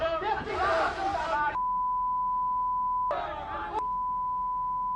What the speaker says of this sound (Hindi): हमने गाली को बीप कर दिया है